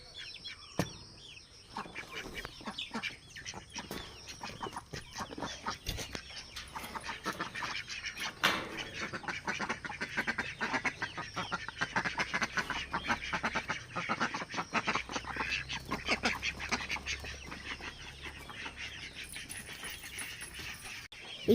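Ducks quack repeatedly at a small farm where chicks are also kept, a busy run of close, uneven calls that carries on for about twenty seconds with other animal noises mixed in.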